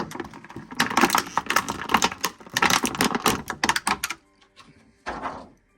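An action figure is pulled free of its plastic packaging with dense, close crinkling and crackling for about four seconds, then a brief quiet and a final short rustle.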